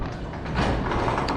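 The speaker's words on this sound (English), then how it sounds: "Door goes up." A newly installed garage door rises on its electric opener, a continuous rumbling mechanical roll with rattling, moderately loud and steady throughout.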